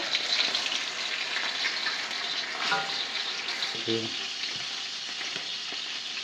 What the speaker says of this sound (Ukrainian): ми підсмажили останні шматочки м'яса